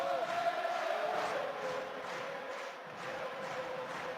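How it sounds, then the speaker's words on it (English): A rugby crowd at a Heineken Cup match in Toulon cheering on the home side, a steady far-off roar of many voices that holds at an even level throughout. "And the crowd trying to get their team going here."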